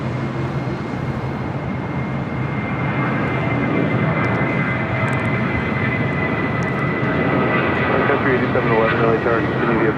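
United 761, a heavy airliner, rolls for takeoff on runway 6 left at LAX, its engines a loud, steady roar that holds and builds over the full stretch.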